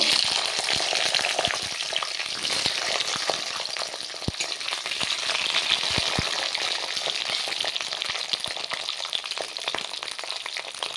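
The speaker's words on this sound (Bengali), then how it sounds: "সিমটাকে আমি আগে ভেজে নেবো তার জন্য কড়াতে সরিষা তেল দিয়ে দেবো" Chopped flat beans fry in hot mustard oil in a kadai, giving a loud, steady sizzle with constant crackling pops that runs the whole time with no talking.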